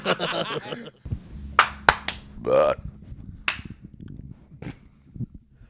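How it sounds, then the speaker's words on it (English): A few sharp hand claps serve as an editing cue during a podcast recording: several crisp, loud snaps spaced about a second apart, close to the microphone, with a low voice briefly heard at the start. "do a clap right here"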